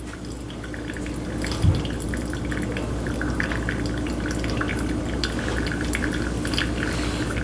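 Water poured steadily over Colombian coffee grounds in a Chemex brewer, a continuous soft trickling and dripping stream held at an even level for several seconds.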